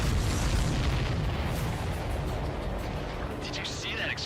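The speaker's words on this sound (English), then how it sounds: "Did you see that explosion?" A missile explosion in the jet combat video game Ace Combat 7: Skies Unknown, a loud, dense rumbling blast filling the whole clip and slowly fading, with a brief radio-like voice fragment near the end.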